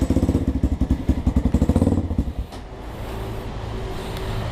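Motorcycle ridden on a wet road just after rain, a loud close engine pulsing rapidly for about two seconds that then settles into a steadier wash of road and wind noise.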